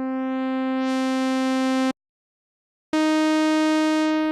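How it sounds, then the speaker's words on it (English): An Arturia CZ V phase distortion synth holds a bright harmonic tone that sweeps between sawtooth and sine, cuts out for about a second, then returns, clean and alone. "we can start to hear the phase distortion"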